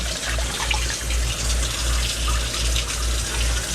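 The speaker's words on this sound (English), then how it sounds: "I'm going to cover this a little bit with more water." Water pours steadily from a tap into a pot holding a whole chicken, a continuous close gushing splash with a low rumbling fill, no voices.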